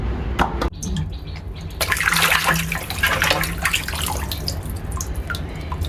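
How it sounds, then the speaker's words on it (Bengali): Meat being washed by hand under a running tap at a dim kitchen sink, a steady close rush of water with splashing and intermittent clatter as the pieces are rinsed, no talking. "এই তো আমি এগুলো সুন্দর করে ধুয়ে নিচ্ছি।"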